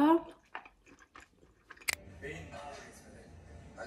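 Crunchy cucumber being eaten, with close bites and chewing spread across the clip and one sharp crunch near the middle, under a person talking.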